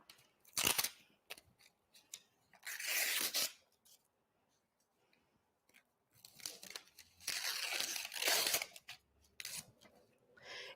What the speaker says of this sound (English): I'm just cutting through the paper so I can expose that the